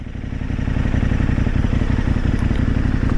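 A KTM 1090R motorcycle rides through Bull Creek among redwoods in Northern California, its engine droning loud and close with a rough, steady pulse.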